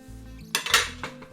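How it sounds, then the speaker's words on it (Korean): Clinking of dishes and cutlery in a kitchen, a few sharp clatters of plates being taken out close by, with a steady low hum underneath. "접시도 꺼내고요."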